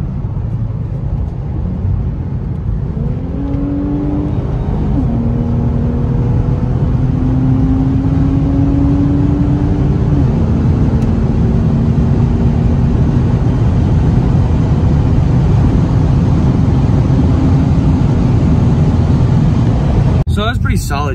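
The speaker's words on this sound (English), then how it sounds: "that was a pretty solid drive. See, this car is definitely quite fast." Infiniti Q50 Red Sport car driving fast, a loud sustained engine and road roar with tones climbing through gear changes, then holding steady, ending in a brief clatter.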